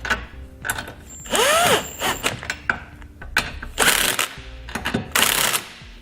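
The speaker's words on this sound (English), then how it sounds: "Now for our U-bolts, we'll be using an 11/16 socket, and when you snug these up, you want to alternate" Socket wrench ratcheting as U-bolts on a trailer hitch receiver are snugged up on a 2016 Honda CR-V, with quick bursts of clicking repeated between pauses and some metallic clanks, close by.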